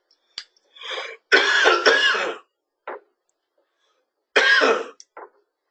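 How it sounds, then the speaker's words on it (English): A few throaty coughs and throat clearings come in short bursts, close to the mic, with quiet gaps between them. "excuse me, I have to cough."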